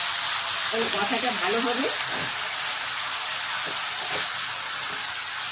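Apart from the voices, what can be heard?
water added to frying ginger garlic paste, sizzling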